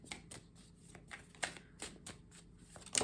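Tarot cards being shuffled by hand for a reading, a run of soft riffling swishes and light taps at close range, quiet and without talk.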